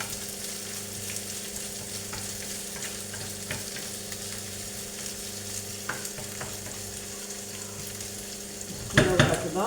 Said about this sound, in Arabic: نخلوها تتقلى. يتقلى البصل، درت سنينه الثوم مع البصل